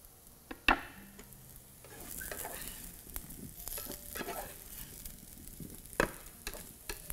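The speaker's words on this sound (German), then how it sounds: "Die Kartoffeln werden nun während ungefähr 6 Minuten leicht goldbraun angebraten." Potatoes frying in a pan, a steady soft sizzle with scattered stirring scrapes and a few sharp utensil clicks, close and moderately loud, no voices.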